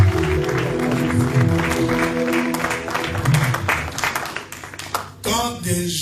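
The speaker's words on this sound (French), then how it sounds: "Est-ce qu'on peut applaudir le Seigneur?" Congregation applause at a church service after baptisms, steady clapping mixed with music and voices, ending with a brief voice.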